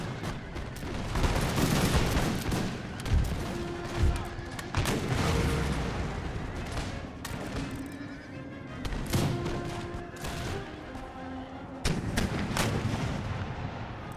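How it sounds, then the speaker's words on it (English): Cannon fire in an American Revolution battle video game booms in loud, heavy blasts amid dense battlefield din, with horses neighing and scattered gunfire mixed in throughout. "You can also stop firing out of the side of your cannon like that."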